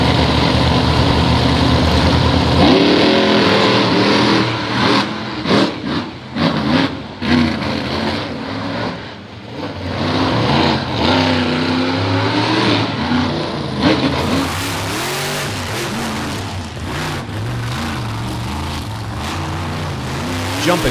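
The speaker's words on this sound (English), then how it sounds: "Up next, it's round 1 of Monster Truck side-by-side Chicago-style racing" Monster trucks War Wizard and Bounty Hunter race side by side in Chicago-style track racing, engines roaring loud and continuous with revving swells, crowd and arena noise mixed in and an announcer's voice under parts of it.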